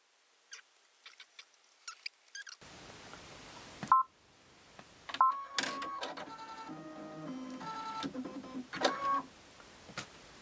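A Baby Lock Aria sewing machine threads itself automatically, giving off a run of small mechanical clicks, ticks and short whirring pulses with brief electronic beeps, heard close up and without any talking.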